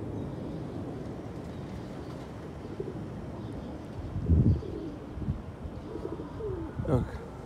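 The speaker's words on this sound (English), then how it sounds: "Got birds coming." Pigeons cooing outdoors, a few low soft coos rising in a short burst partway through over a steady background hiss, with faint chirps near the end.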